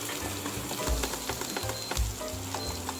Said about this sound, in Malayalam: ഇനി നമ്മളതിലേക്ക് ഇഞ്ചി വെളുത്തുള്ളി കൂടെ ചതച്ചത് ചേർത്ത് കൊടുക്കുക. അത് അത്യാവശ്യം ഒന്ന് നന്നായിട്ട് വഴറ്റിയെടുക്കുക.